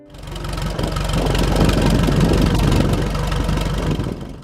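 An old small farm tractor engine runs loud and close, a steady low chugging with a knocking rhythm that swells in and holds without pause.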